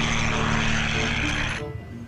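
A battery-powered toy helicopter runs with a loud, steady electric whir close by, then winds down abruptly near the end, with faint handling noise after.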